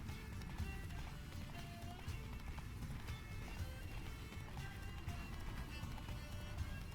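Roach, the horse in The Witcher 3, gallops in steady rhythmic hoofbeats under continuous game ambience, with no voices over it.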